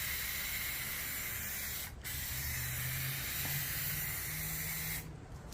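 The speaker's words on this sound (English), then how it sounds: "if you start spraying" Plasti Dip sprays from an aerosol can onto a car's rear spoiler in a loud, steady hiss lasting several seconds, with a brief pause near the start and a cutoff at the end.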